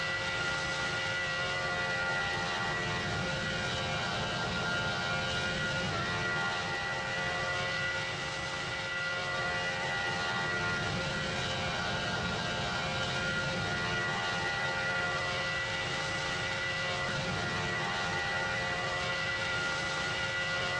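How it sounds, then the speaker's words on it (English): Continuous heavy jet engine roar from an airplane climbing after takeoff from Changi Airport, loud and sustained with slight swells, no talking heard. "The plane climbs to its cruising altitude and heading."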